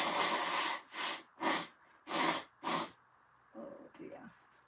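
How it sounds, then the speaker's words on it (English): A person blowing their nose, in a series of five loud, breathy honking bursts close to the mic, followed by quieter sniffs and throat sounds. "So I'm just going to blow my nose"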